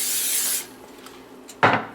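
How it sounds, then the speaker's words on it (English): Non-stick cooking spray comes from a can in a short, close hiss of about half a second. It stops abruptly, and a brief louder rustle follows soon after. "we'll have to use some non-stick cooking spray"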